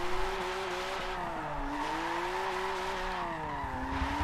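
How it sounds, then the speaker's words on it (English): In the Forza 7 racing game, a loud car with a factory differential drifts, its engine droning with wavering pitch under continuous tire squeal, close and sustained throughout. "Wow, this car is loud."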